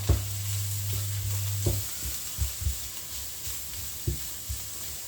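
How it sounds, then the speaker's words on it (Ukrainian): Carrots added to lightly fried onion in a frying pan for bulgur with mince, a low steady sizzle punctuated by several distinct knocks and scrapes of a utensil stirring. "Наша цибулька вже трохи підсмажилася, і ми додаємо до неї моркву."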